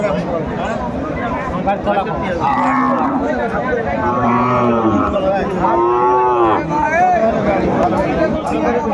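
Cattle moo repeatedly at a cattle market, several long, drawn-out calls rising over the steady chatter of a crowd of people talking nearby.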